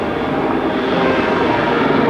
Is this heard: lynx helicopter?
yes